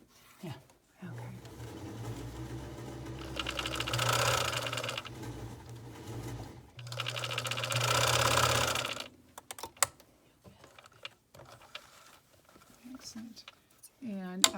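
A sewing machine stitches a Christmas stocking in two sustained, fairly loud runs of steady mechanical whirring, separated by a short pause, with quiet handling sounds and faint voices before and after.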